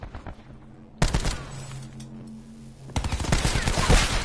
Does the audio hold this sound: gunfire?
yes